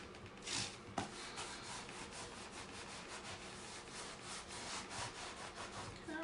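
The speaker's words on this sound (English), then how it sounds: "I'm actually going to give it a really good rub because I actually would like to remove a little bit of this paint" Steady, soft scrubbing rub on a painted canvas as paint is worn away for a weathered rustic look, a continuous dry friction texture with rhythmic strokes, close and fairly quiet, with no talk.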